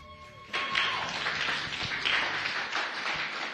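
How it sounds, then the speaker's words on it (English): An audience bursts into applause after a brief pause at a talk at COP 28, sustained clapping from many hands filling the room for several seconds. "Let's give her a round of applause, please."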